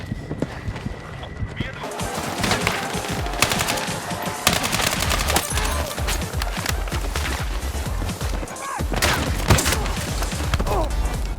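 Rapid bursts of automatic gunfire and single shots crackle through a Battlefield 6 match, mixed with running footsteps and game effects, while a player talks over the action throughout.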